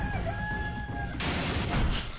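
Chicken clucking and crowing sound effect in the Fist of the North Star: Lost Paradise video game, a short loud burst over dense game music and effects.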